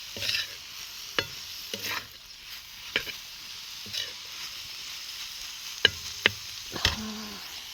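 A cooked vegetable dish sits on a hot tawa griddle with a faint, steady sizzle, broken by a few sharp clicks and taps of a spoon stirring against the pan; no talking.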